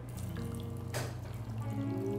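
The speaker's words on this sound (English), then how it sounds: "when we pour water over it" Water is poured over dry ice, giving a short splashing, trickling pour in the middle of the clip over a steady tonal background.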